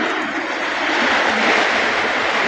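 Heavy rain pours down in a loud, dense, steady roar that fills the whole stretch without pause.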